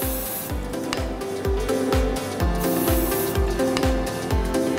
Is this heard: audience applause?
no